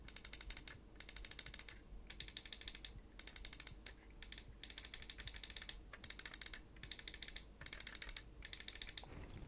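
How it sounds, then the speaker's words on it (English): A computer mouse with KEL KM8 switches is clicked in quick bursts up close, each burst a dense run of sharp, bright clicks separated by brief gaps, with no talking. "now in this we've got the KEL switches, the KM8s"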